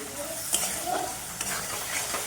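Spice paste sizzles and fries in hot oil while being stirred for a Bengali aloo dum, with a continuous close hiss and occasional scraping stirs across the pan.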